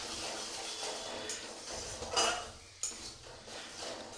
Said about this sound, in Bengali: একটু নাড়িয়ে নিই